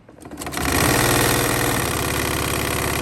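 A sewing machine runs in a loud, close, fast mechanical whir that speeds up and then settles into a steady stitching rhythm, with a short shift partway through as it back stitches.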